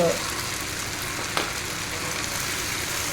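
Potatoes frying in hot oil for honey chilli potatoes, a steady, even sizzle held at a constant level, with one brief clink partway through.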